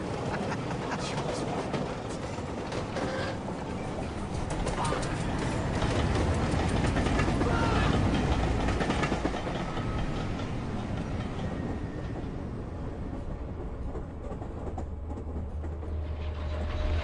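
A sleeper train running on rails makes steady, dense rumbling and rattling, with faint clickety-clack from the wagons, continuous and close throughout.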